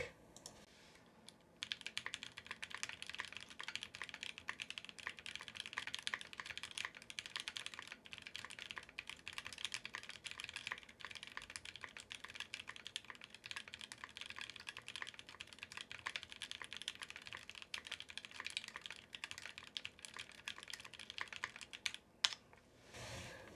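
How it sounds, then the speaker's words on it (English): Rebuilt Sangeo 65 mechanical keyboard fitted with Ice Candy switches, typed on hard and fast: a dense, continuous stream of crisp clacking keystrokes with a few louder hits, close up and alone with no talking. "let me type as hard as I can so that I can make it clack"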